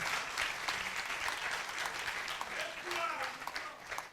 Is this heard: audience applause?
yes